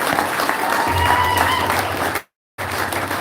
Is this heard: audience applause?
yes